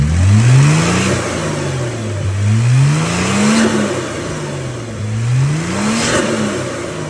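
A Kia Stinger 3.3t V6 fitted with AddW1 Pro Series blow-off valves revs at idle, the engine note climbing and falling in three smooth swells, with a faint whoosh as each rev drops, loud and near.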